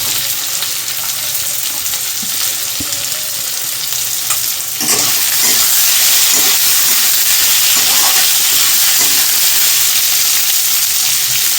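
Diced onions and chopped capsicum frying in a pan for restaurant-style chilli chicken, a steady loud sizzle that swells and brightens partway through as the onions go in, with occasional stirring scrapes.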